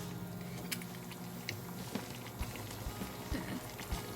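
Salted crab simmering in coconut milk in a pot, a soft steady bubbling with small irregular pops and blips, quiet and close.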